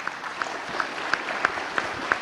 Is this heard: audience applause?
yes